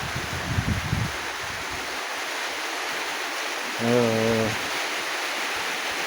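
Steady wind and ocean surf roar throughout in windy, rainy weather, with a brief low tonal hum rising midway; no voices.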